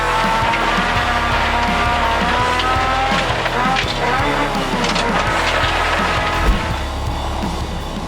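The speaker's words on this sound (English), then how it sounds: "In another 2-wheel drive car was Jamie Neal and Tom Flegel in the Honda Civic" Front-wheel-drive Honda Civic rally car at speed on a stage rally, engine revving hard with gear changes and some tire squeal, loud and close throughout with a brief thump near the end.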